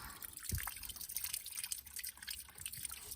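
A small public water fountain in Positano trickles and drips softly, with close, quiet splashes and gurgles running unevenly over low outdoor ambience.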